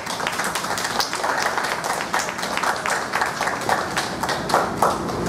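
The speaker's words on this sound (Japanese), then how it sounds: "夏祭りがいいと思う人拍手。" An audience claps at an outdoor Japanese summer fish-fair concert, a steady, dense patter of many hands that carries on for several seconds with no voices over it.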